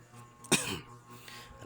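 A single short, sharp cough close to the microphone, alone in an otherwise quiet room.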